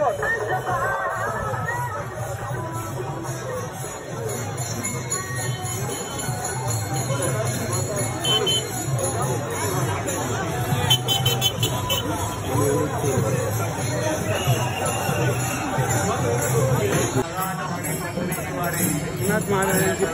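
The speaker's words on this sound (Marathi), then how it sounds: "गर्दी भरपूर आहे." Dense hubbub of a large crowd of pilgrims on the road to Pandharpur during the wari procession, steady and continuous, with chatter and faint tinkling bells woven through the throng.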